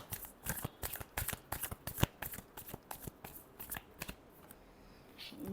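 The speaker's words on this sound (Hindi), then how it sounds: "last shuffle" Deck of tarot cards being shuffled by hand, close and quiet, a quick run of crisp riffling flicks that slows and stops near the end.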